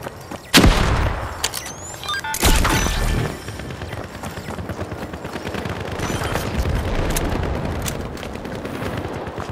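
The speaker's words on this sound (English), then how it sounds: "Throwing the frag!" A frag grenade in the game The Finals is thrown, then booms loudly nearby; a second sharp blast follows, then continuous gunfire and battle noise fill the rest.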